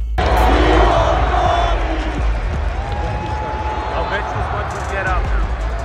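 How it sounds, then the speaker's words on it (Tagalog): A large basketball arena crowd roars and chants "We want Bronny" together, a loud dense wash of voices with rhythmic shouting and scattered squeaks and thumps. "nagsisigawan na ang crowd ng "We want Bronny"."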